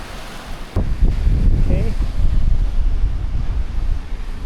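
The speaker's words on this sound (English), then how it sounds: "windy." Wind gusts on a beach buffet the microphone with a steady low roar and rumble from about the first second onward, loud and close, with faint surf noise behind.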